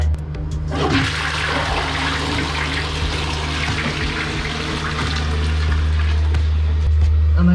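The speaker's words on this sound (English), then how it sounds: "These must be the flushes." A newly installed Mondella toilet flushes loudly and close, a continuous rush of water that settles into the hiss of the cistern refilling.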